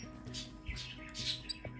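A hungry baby bird that fell from a roof squawks in short, faint, raspy bursts during hand-feeding, several quick calls over low background hum.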